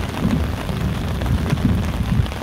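Heavy rain pours down on a hillside house in Jeju during a heavy-rain warning, a loud, steady, close hiss of drops striking surfaces with no break and no voices.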